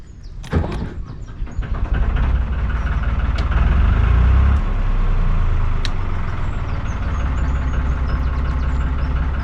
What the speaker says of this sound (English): Let's start this engine, make a move.